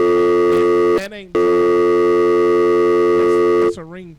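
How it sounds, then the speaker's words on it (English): A telephone ringtone sounds on a radio call-in line during a North Carolina high school football post-game show: a loud, steady electronic tone broken by two short gaps, with brief voice sounds at the breaks. "That's a ringtone."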